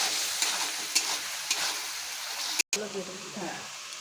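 Paneer frying in a pan, a close sizzle with repeated spoon clinks and stirring scrapes, a brief dropout midway, and someone speaking softly over the cooking.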